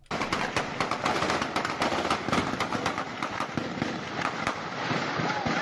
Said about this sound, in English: listen to the gunfire